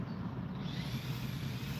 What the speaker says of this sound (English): if you hear a bunch of cars in the background, they are near a street